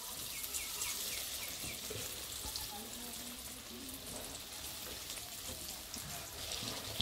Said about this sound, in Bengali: এই যে প্রতিটা ডিম আমি এইভাবে ভেজে নেব।